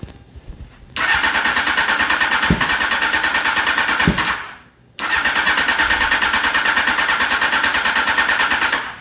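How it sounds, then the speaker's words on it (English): A custom ATC600R cold-starting with the choke on: the engine catches and revs loud and close, sputters out briefly, then restarts and keeps running steadily. "This thing can be a bear to cold start, so get the chokes on."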